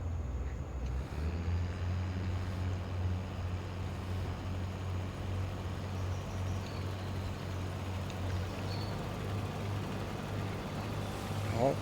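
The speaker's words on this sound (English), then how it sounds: "this is the Colossus cotton harvester." Engine of a Colossus cotton harvester, base model in horsepower terms, running steadily with a constant low drone and strong harmonic hum, close and continuous throughout, with no talk.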